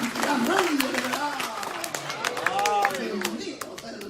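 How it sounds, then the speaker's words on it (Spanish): Church congregation applauding, a dense patter of clapping that runs beneath a voice speaking loudly over it. "fuerte y aplauso"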